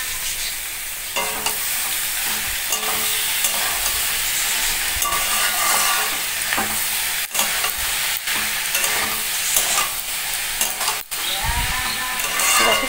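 Boiled soybean chunks added to a hot pan, sizzling and frying steadily with occasional stirring and scraping clatter, close and fairly loud, no talking.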